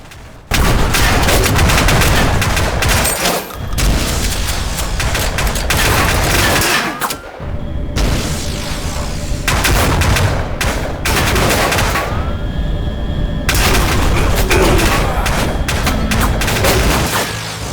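Rapid gunfire from weapons in the VR hover-vehicle combat game Hover Junkers rattles in loud, dense bursts of shots and booms, nearly continuous with only brief gaps.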